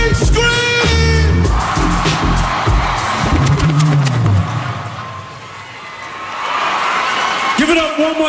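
Concert crowd at the 2005 MTV Video Music Awards screams and yells in a loud, sustained roar, with a voice calling out over the crowd near the start and at the end.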